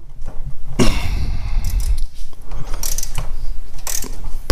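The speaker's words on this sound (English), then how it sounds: "pull this bolt. It's kind of a screw, threaded screw bolt out of here" Ratchet wrench working a threaded screw bolt loose on a Ford Mustang during a clutch cable swap, loud close metallic clicking and grinding in uneven bursts with no talk.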